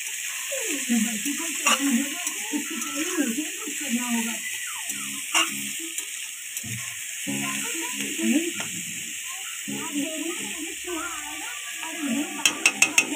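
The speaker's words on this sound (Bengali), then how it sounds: "তো এখন আমি ভালো করে নাড়াচাড়া করব।" Pumpkin curry with dried shrimp, turmeric and salt being stirred in a pan, a steady close sizzle broken by scraping strokes of the spoon, with a few sharp clicks near the end.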